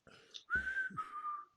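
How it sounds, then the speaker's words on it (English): A person whistles a short melodic phrase, a clear tone that rises and then holds, fairly faint and close, with a short breathy note before it and no talk. "The reason I'm whistling"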